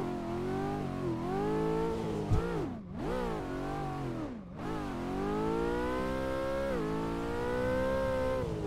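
A 2024 Mustang drifting on a track in Assetto Corsa, its engine holding a steady high-revving drone with brief dips as the throttle lifts, over a constant smoky tire hiss, close and continuous throughout.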